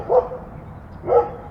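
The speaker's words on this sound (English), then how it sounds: "You get those dogs going." Two loud barks from a dog close by, spaced about a second apart, with nothing else around them.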